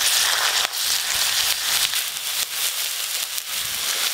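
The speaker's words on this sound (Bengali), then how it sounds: "পেঁয়াজ খুব ভালো করে ভাজা ভাজা করে নিয়েছি" Onions fry in a pan with spices, giving a loud, steady sizzle and crackle with a few sharper pops scattered throughout, close and uninterrupted.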